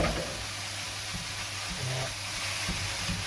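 About 500 grams of mincemeat and browning onion frying in a pan, giving a steady, close sizzle and hiss, with a voice speaking briefly.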